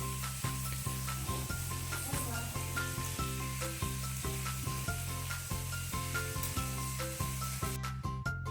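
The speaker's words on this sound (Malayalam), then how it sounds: "നമ്മുടെ ഫ്രൈ ആയിട്ടുണ്ട് കേട്ടോ ഏകദേശം കുക്കായിട്ടുണ്ട്" Snakehead fish fries in a pan with a steady, close hiss and crackle that runs throughout, under a rhythmic musical backing.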